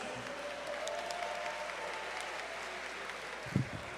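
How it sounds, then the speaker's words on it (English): Convention crowd applause at a tribute event fills the room as a steady, distant-sounding wash of clapping, with a single louder thump near the end. "One more round of applause for Yusuf"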